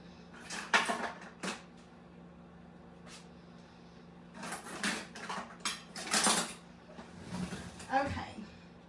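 A metal whisk is pulled from a drawer of kitchen utensils, giving several bursts of clattering and clinking metal with quieter gaps between, close by and fairly soft.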